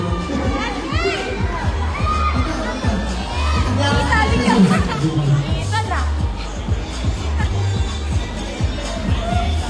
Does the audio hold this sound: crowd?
yes